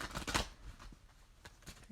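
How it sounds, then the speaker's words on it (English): Tarot cards are shuffled by hand in a quick burst of riffling flutters, then a few softer scattered card slaps, all close and alone with no voices. "One more shuffle for Virgo."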